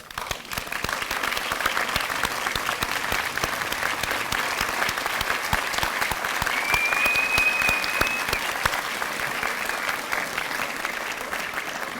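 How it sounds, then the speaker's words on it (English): A graduation audience gives the principal and staff a long, sustained round of applause, a dense, even wash of many hands clapping with a faint tone briefly audible underneath. "let's give them a round of applause"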